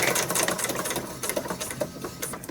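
A sewing machine stitches steadily with a fast, even mechanical chatter. It is close and runs alone, with no talking.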